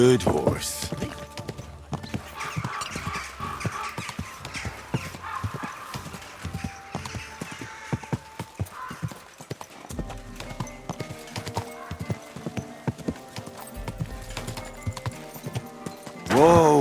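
Horse hooves clip-clop steadily on the ground in Kingdom Come: Deliverance 2, a close, even rhythm of hoof strikes running throughout, with someone speaking over it and a brief whinny near the end.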